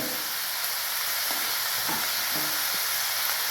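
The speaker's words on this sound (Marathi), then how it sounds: "टोमॅटो सुद्धा आपल्याला छान असं भाजून घ्यायचे त्याच्यातच" Tomatoes with salt fry in a pan as a steady, loud, close sizzle, with a few faint soft clinks or stirring touches over the continuous hiss and no talking.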